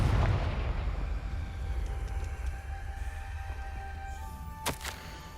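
A fire spell explosion in the video game Hogwarts Legacy, a deep rumbling blast that swells at the start and trails into a long low roar, with a sharp crack of magic near the end.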